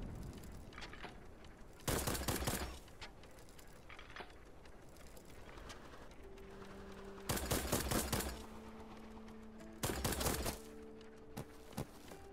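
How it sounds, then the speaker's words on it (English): Airship nose cannon in the steampunk shooter game Black Skylands fires in several loud, sharp bursts, each a quick rattling volley of blasts, with quieter mechanical game sounds and low tones between them. "Nose cannon, cannon blast."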